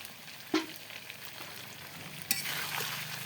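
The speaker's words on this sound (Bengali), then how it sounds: "তেল ছেড়ে দিয়েছে, সুন্দর করে কষাইয়ে নিলাম মাংসটা।" Goat meat frying in oil in a pot on a clay stove, a steady soft sizzle with a couple of sharp scraping stirs of the spoon, fairly close.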